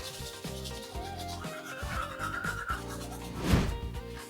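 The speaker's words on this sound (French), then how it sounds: "On se brosse les dents et après on va se maquiller." Close, steady scrubbing of teeth with a toothbrush, a continuous rubbing rhythm over about four seconds with a sharper scrape near the end, no talking.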